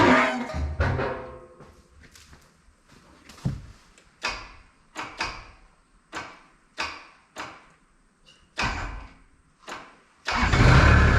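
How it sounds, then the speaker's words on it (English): Old 45-horsepower tractor engine cranked with a key, a loud starter grinding in repeated short bursts that each fade, before the engine catches and roars at the end. "To even get it started, you gotta turn the key."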